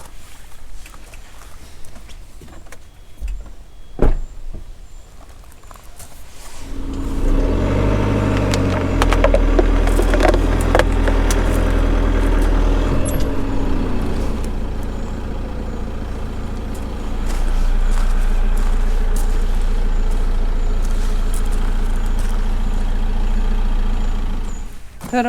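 A motorhome engine rumbles low and loud as it drives up onto a caravan site pitch, the drone swelling and holding steady under some faint background voices, with a few clunks before it starts.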